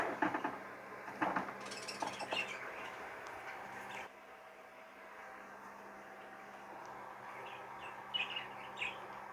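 Pet birds, a cinnamon and a dominant pied, chirp on a perch indoors, with scattered faint high tweets and soft calls over a quiet hum.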